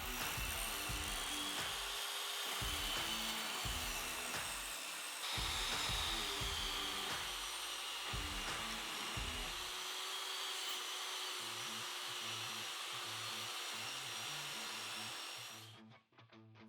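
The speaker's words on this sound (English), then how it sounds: "I can jump back over to the table saw to rip it down to final width." A table saw rips hardwood lengthwise to final width for a small end grain chopping board, a loud steady whine with repeated cuts and brief dips, then the blade spins down at the end.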